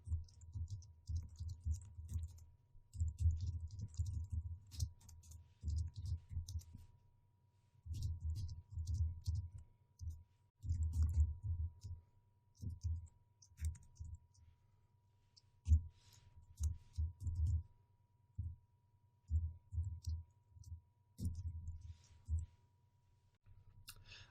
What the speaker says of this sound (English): I'm going to stop talking and start typing.